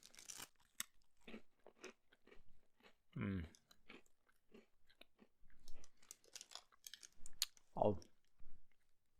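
Saltine crackers crunch between the teeth up close, with a few distinct crisp bites standing out among quieter, scattered chewing noises.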